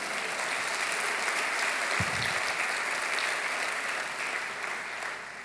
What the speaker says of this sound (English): You may applaud for Sasha Jaffrey